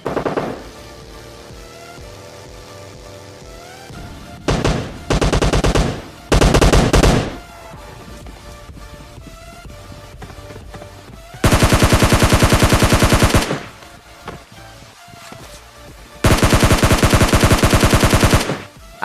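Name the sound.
gunfire in PUBG Mobile Lite video game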